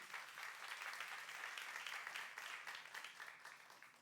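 Church congregation applauding during a youth service sermon, a steady wash of many hands clapping at moderate volume that holds for several seconds and tapers slightly at the end, with no talking over it.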